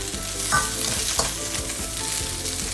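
Prawn shells stir-fried in a wok over very high heat for Sabah Tuaran Mee, a steady close sizzle with repeated scraping strokes of the spatula every half second or so.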